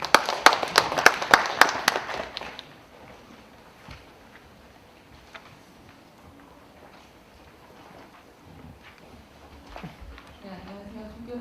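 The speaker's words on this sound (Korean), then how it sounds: "박수로 맞이해 주시면 감사드리겠습니다" A short burst of loud audience clapping greets a presenter at a civic forum on urban parks, lasting about two seconds before fading into quiet room noise with scattered footsteps and small knocks.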